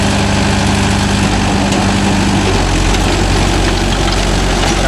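A Mahindra Yuvo Tech Plus 585 4WD tractor engine runs loud and close with a steady rumbling drone while working a rotavator in a coconut grove.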